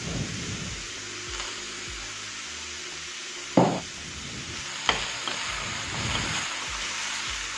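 Red and green capsicum stir-fried with paneer sizzle steadily in a pan, with a spatula scraping and stirring, two sharp clatters from the utensil, and no talking.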